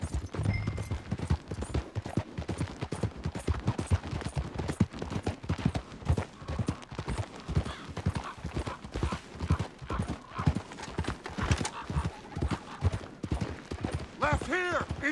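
Horses gallop hard in Red Dead Redemption 2, with rapid clip-clop hoofbeats throughout, occasional neighs and distant gunfire, and voices shouting over the ride.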